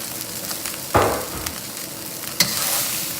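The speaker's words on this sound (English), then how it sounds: "And then just start stirring everything from the bottom so that that's not burning." Chicken fried rice with garlic, ginger and onion sizzling in a hot pan, a constant fry hiss broken by two sharp scraping stirs from the bottom, close and clear with no voices.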